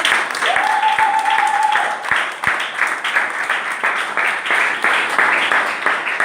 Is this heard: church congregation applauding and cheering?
yes